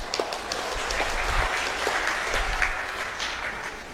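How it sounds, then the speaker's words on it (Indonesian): Audience clapping during a human-rights lecture, a steady patter of many hands with a few sharper individual claps standing out, continuous and moderately loud throughout. "Kemudian, ya tepuk tanganlah."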